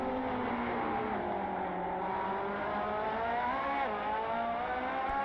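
A Ferrari 458 race car in the racing game Assetto Corsa drones steadily under throttle, a continuous harmonic engine whine with slight pitch wavering and no speech.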